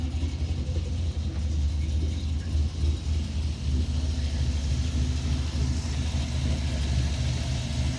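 A 1986 Camaro Z28 IROC's built 355 V8 engine rumbles steadily from inside the car while driving, a deep low drone with slight variations in revs throughout.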